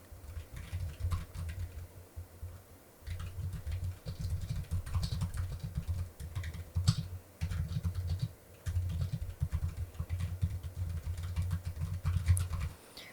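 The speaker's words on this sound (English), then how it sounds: "this is a test of me typing on my keyboard." Typing on a computer keyboard, steady soft key clatter in near-continuous runs with brief pauses, close and fairly quiet, no voices.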